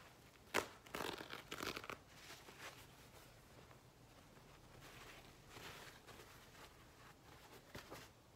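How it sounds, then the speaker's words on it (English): Paper towel rubs and crinkles against a leather bag during cleaning, close and quiet, with a few louder scrubbing bursts early on, then softer intermittent swipes. "I love paper towel sounds."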